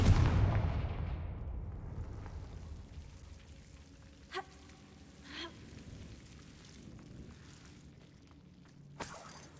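A fiery Confringo spell blast in the Hogwarts Legacy video game opens with a heavy explosive boom that rolls off into a fading rumble, followed by a few faint crackles and small impacts.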